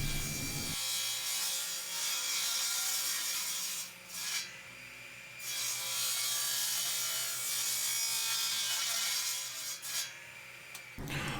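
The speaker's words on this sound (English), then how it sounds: "I'm going to cross-cut this into 3 pieces that are going to make up all the pieces I need" A hand saw cross-cuts a wood board into three pieces for a footrest, with steady continuous rasping strokes close up, briefly pausing around the fourth and tenth seconds, no talking.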